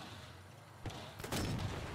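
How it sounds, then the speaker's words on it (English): A gunshot in the video game Sniper Elite 4 cracks out suddenly and is followed by a second louder report and a lingering echoing tail over quiet background ambience. "They heard that gunshot, by the way."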